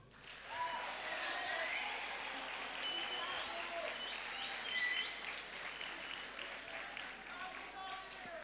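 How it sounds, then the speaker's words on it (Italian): Audience at a school event for ecological and cultural transition applauding throughout, a steady wash of clapping with a few bird chirps and faint voices mixed in. "fatevi un applauso"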